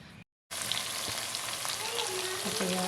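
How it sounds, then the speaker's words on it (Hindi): Chicken fries in a pan with a dense, steady crackling sizzle heard up close, starting after a short moment of silence and continuing without any voices. "अच्छा यहाँ साथ साथ मैंने जल्दी से चिकन की फ्राई कर लिया।"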